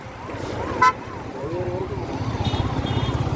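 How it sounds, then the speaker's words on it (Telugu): Heavy night traffic on the airport road at KR Puram, Bangalore, heard from a motorbike: a constant engine rumble with one short, loud car horn toot and a faint wavering siren in the background. "చాలా ట్రాఫిక్ ఉంది భయంకరంగా ఉంది"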